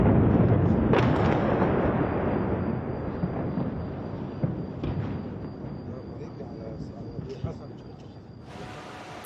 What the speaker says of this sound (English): tonight there have been yet more explosions here in the capital city of Lebanon